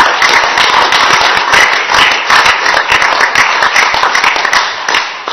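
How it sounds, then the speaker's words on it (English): Audience applause at a Sheffield City Council local area committee meeting: a dense, steady burst of many hands clapping close and loud for about five seconds, easing slightly at the end, with no talk over it. "Can we give a round of applause, please?"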